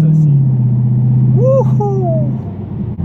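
A Dodge Challenger R/T Scat Pack engine holds a loud, deep drone on a normal drive, then eases off as someone speaks over it.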